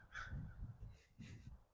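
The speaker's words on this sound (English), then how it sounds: "Oh no, we've attracted the crows." Crows caw outdoors in a few hoarse, fairly faint calls spaced across a couple of seconds, under a low background rumble.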